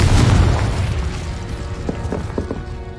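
A Confringo spell explosion in the Hogwarts Legacy video game: a loud, close blast opens, then a rumbling tail fades over a few seconds, with a few faint knocks near the end.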